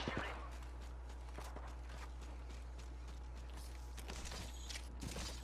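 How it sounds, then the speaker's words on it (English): Footsteps in a video game, a quick run of light, soft taps moving through an indoor area during a shooter match, faint beneath a steady background hum. "I hear footsteps in here"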